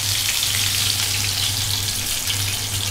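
Stuffed bitter gourd slow-fries in oil, giving a loud, dense, unbroken sizzling hiss that holds steady throughout without pauses.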